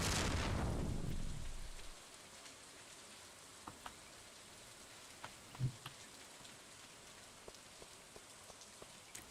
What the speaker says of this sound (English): Ooh, I think I hear thunder outside.